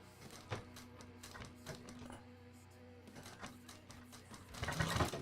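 A sewing machine stitches at close range with a rapid mechanical patter that builds louder toward the end, and a few stitches are thrown in an old workshop with a screwdriver nearby.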